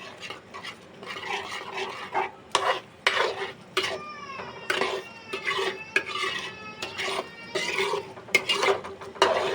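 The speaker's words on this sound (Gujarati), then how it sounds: "હવે આપણે એને ઘડીક હલાવી નાખીશું અને દહીં હંમેશા ફેટીને લેવું." A spoon stirs yogurt into curry gravy in a pot for Afghani egg curry, giving intermittent scraping and clinking bursts, while a cat meows repeatedly nearby.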